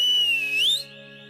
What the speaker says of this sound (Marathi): शिट्टी वाजली